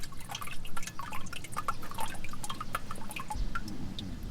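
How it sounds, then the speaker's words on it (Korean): Persimmon vinegar made from native meoksi persimmons drips steadily through a strainer. Soft, bright droplets splash close by at an uneven rhythm over a quiet, low background. "감식초 떨어지는 소리가 찰랑찰랑한 게"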